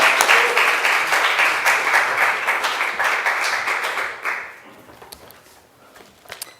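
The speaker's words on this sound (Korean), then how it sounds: "우리 이 시간에 우리 이광진 목사님 나오실 때 큰 박수로 할렐루야 많은 은혜 받으시기 바랍니다." Church congregation applause during a Sunday service welcoming a pastor, dense and steady for about four seconds, then fading to a few scattered claps and quiet.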